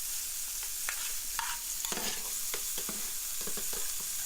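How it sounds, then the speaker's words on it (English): Meat browning in a hot pan for empanadas, a steady sizzle and fry with scattered scrapes and clicks of a utensil stirring the pieces. "we're really just trying to brown the meat here"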